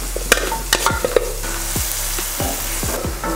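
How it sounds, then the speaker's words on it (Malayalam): Pieces of Kerala-style yam (chena) fry in hot oil with a constant close sizzle, broken by a series of sharp clinks and scrapes from stirring. "എണ്ണയിലിട്ട് വറുത്തെടുക്കാം."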